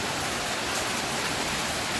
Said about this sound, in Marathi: सकाळीच एवढा पाऊस सुरू झाला आहे